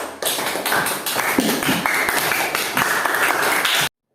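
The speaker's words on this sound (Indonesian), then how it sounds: "tepuk tangan untuk kelompok terakhir" A classroom group claps in a dense burst of applause for about four seconds, loud and close, cutting off abruptly at the end.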